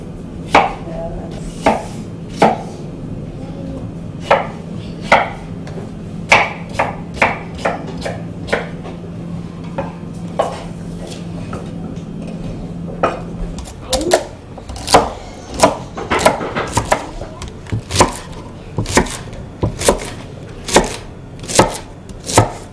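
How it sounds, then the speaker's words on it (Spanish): Knife chopping turnip on a board for a traditional home dish: steady, close, sharp knocks in a fast rhythm, with a low hum underneath during the first half. The chopping grows louder and crisper toward the end. "Ahora voy a picar el nabo."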